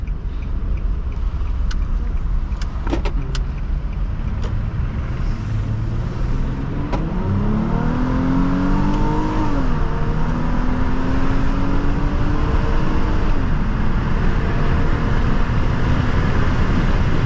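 From inside a 2005 Nissan Altima 3.5 SE on a test drive, the engine note climbs steadily under acceleration through gears over a constant road and wind roar, with a brief clicking early on; no one speaks.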